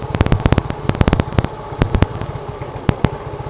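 A Yamaha Mio M3 scooter engine with a replaced block and new injector, a bike that dies when throttled, runs close by with uneven sputtering firing pulses that bunch together and then thin out.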